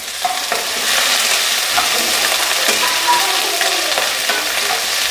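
Tadka in a kitchen: spices sizzle loudly in hot oil with a steady frying hiss, broken by scraping stirs of a spoon through the pan.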